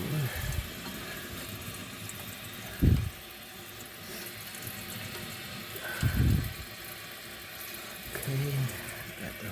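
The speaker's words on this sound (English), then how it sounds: "let's see if the toilet fills up and it doesn't leak" A Kohler toilet tank refills with water after a flush, a steady low rushing hiss with a few brief louder surges and clunks, close by and without speech.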